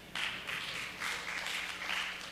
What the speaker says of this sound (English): some of you are clapping